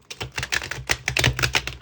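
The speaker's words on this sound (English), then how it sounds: "That was a really bad shuffle." Tarot cards being shuffled by hand with dry, slipping fingers, a fast run of crisp riffling clicks and flutters close up, no voices.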